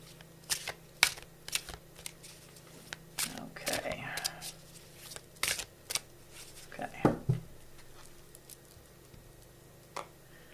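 A deck of oracle cards is shuffled close by in a series of soft, irregular riffles and taps, with brief murmurs of a voice in between.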